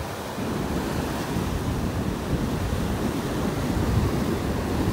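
Surf rolls and crashes in a continuous wash on a beach in North Naples, Florida, while wind roars across the microphone, a dense steady noise without any talking.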